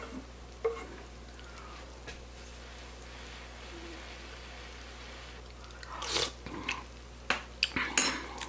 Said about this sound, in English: So take a clean spoon. I like to just go around the corners